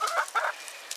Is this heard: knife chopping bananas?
no